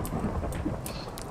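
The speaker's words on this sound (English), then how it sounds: "the rain started, and lightning just struck your house" Thunder rumbles over steady rain in a Minecraft storm, a brief, moderately loud low roll with a constant hiss of rainfall.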